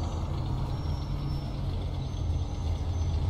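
A truck in the video game Mafia II rumbles past with a steady, dense low engine drone and faint high whine, continuous and loud throughout.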